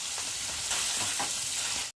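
Bhola fish pieces frying in a pan on a tawa, giving a dense continuous sizzle with a couple of short spatter bursts, close and steady with no speech.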